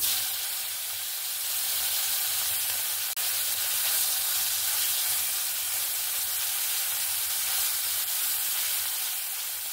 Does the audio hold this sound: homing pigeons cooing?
no